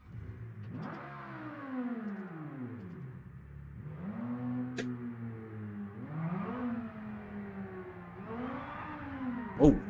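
A V10 car engine in BeamNG.drive revs repeatedly, climbing and dropping in pitch through several throttle sweeps, loud and close with no talk over it, ending in a sharp pop.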